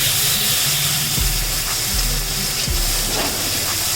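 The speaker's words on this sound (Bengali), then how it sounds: "আদা সর্ষে জিরে কাঁচা লঙ্কা বাটা মশলাটি দিয়ে সম্পূর্ণ ভালো করে ভেজে নিচ্ছি" A paste of ginger, mustard, cumin and green chili fries in a pan, producing a loud, continuous hissing sizzle with a few low thumps from stirring, and no voices.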